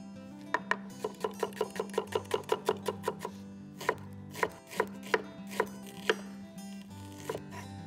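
Knife chopping two to three medium onions on a board: a fast run of about fifteen sharp, even taps, then slower, heavier single chops spaced out, close and clear with no talking.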